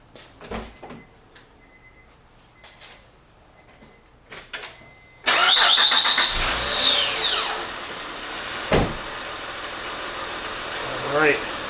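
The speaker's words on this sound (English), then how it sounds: "I'm going to go fire it up and let's read what we got." A warm Acura with a rich-running fault and trouble codes P0175 and P0172: after a few quiet clicks and knocks, the engine cranks and fires with a sudden loud roar, then settles into a steady, close idle.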